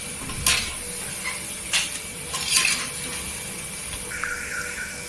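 Besan pakoda fritters frying in oil in a kitchen: a soft continuous sizzle broken by a few sharp clinks and scrapes of a metal spoon against the pan, close up with no speech.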